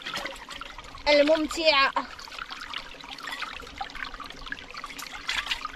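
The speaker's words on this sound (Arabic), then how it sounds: "الماء هنا جاري" Running water flowing outdoors in a jungle setting, a soft, continuous trickle heard beneath a brief stretch of speech by a man.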